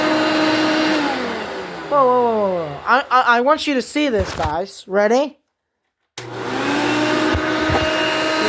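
A rescued Hoover Elite 350 vacuum cleaner, 6.0 amp, starts up with a loud steady motor whine, cuts out briefly, then roars back on; someone talks excitedly over the running machine.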